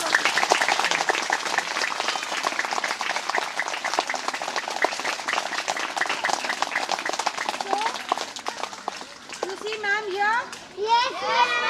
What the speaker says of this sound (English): So please welcome him with big round of applause.